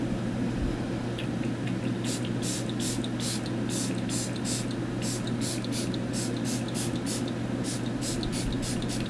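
Peach and Lily Glass Skin Veil Mist setting spray pumped toward a face, a rapid series of about twenty short hissing bursts, close and crisp, over a steady low room hum.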